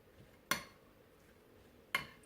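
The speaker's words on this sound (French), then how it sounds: "je mélange bien ma pomme de terre" Potatoes for a raclette cheese gratin are being mixed in a dish, heard as two sharp clinks of a utensil against the dish about a second and a half apart, with quiet room tone between them.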